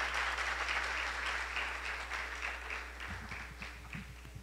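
An audience claps steadily in sustained applause, a dense patter of many hands that carries on throughout at moderate volume.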